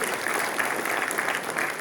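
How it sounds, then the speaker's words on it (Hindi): Thunderous applause from a large audience welcoming appointees at a Prime Minister's employment fair in Ranchi, a dense, continuous roar of clapping, loud and even throughout the short burst. "तालियों की गड़गड़ाहट से स्वागत किए"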